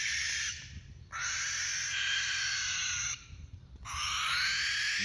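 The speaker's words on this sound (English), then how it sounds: "you won't find an outburst that's more to blame for mental anguish than the banshee-coated barn owl" A barn owl gives long, harsh, hissing screeches, three drawn-out rasping calls split by short pauses, loud and close.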